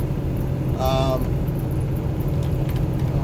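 A fire extinguisher rattles inside a moving truck cab, a brief metallic jangling burst over the steady low rumble of the engine and road noise, with a voice heard only faintly.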